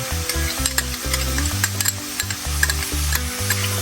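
Red onion and minced garlic frying in a pan, a loud, continuous sizzle broken by quick repeated stirring scrapes and taps, close up with no talking.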